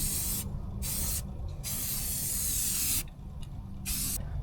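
Aerosol spray paint hisses in bursts as a first coat of black goes onto a Suzuki Samurai chassis in southern Utah sun, several long close sprays separated by short pauses.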